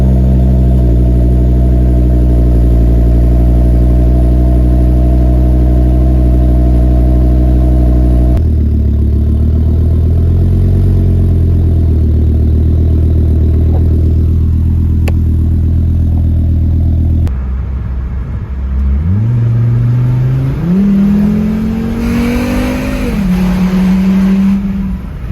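Steady engine drone of a Volvo S60R under way on the road, a low constant hum that shifts pitch as the gears change and rises near the end under acceleration, with no talking.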